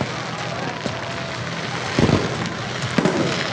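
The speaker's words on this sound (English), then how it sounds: "Don't shoot fireworks in the day, okay?" Daytime fireworks near a shoreline, with two or three sharp bursts popping over a steady outdoor background hiss, and faint voices in the background.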